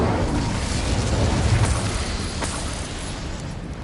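An Incendio fire spell cast in Hogwarts Legacy, a loud rushing fiery burst that roars steadily and slowly fades over a few seconds.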